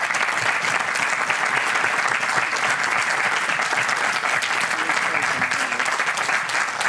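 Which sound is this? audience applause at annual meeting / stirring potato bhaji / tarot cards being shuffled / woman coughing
audience applause at annual meeting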